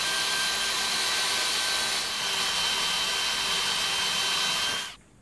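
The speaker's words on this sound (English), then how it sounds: "Birds, planes and ambulances, and the leaf blower, bane of my YouTube life." A steady droning leaf blower whine in the distance runs continuously at moderate volume, then cuts off abruptly near the end.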